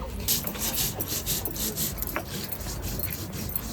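Poppy seeds being ground into a paste on a stone, a repeated rough rubbing and grinding stroke in an even rhythm, close and moderately loud, with no talking.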